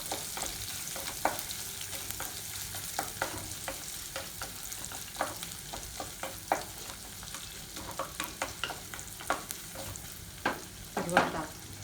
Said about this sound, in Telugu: ఉల్లిపాయ ముక్కలు వేసి కాసేపు మగ్గనివ్వాలి.